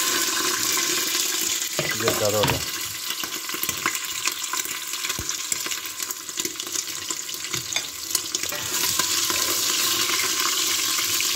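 Sujuk slices fry in hot oil in a pot, a dense continuous sizzle with a burst of bubbling spatter near the start, while a voice speaks briefly.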